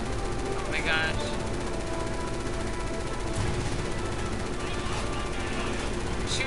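Gunfire in the Resident Evil 6 co-op campaign on Veteran difficulty, played as Chris: a constant wash of rapid automatic shots and game noise runs through the whole stretch at steady loudness, with no pauses, and nobody speaks over it.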